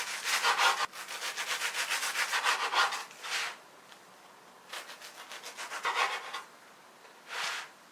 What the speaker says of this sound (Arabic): ونبتدي طبعا نقص التوست